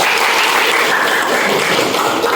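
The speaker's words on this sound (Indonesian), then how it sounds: "Pokdar Kamtibmas, tepuk tangan untuk semuanya" Dense, continuous applause from a crowd at a ceremony installing Pokdar Kamtibmas community security members in Desa Aras, Batubara, sustained and loud throughout with no pauses.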